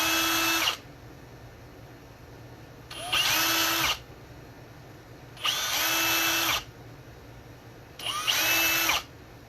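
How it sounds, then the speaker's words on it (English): A power drill whirs in four short bursts of about a second each, drilling a pilot hole for the jack in an instrument body, separated by pauses of quiet room noise. "we're going to go ahead and drill out the pilot hole for the jack as well"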